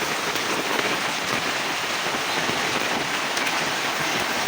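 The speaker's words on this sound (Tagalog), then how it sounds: "Sana lang huminto na ang ulan." Steady rain falls heavily, a dense, even hiss of drops pattering on surfaces without pause.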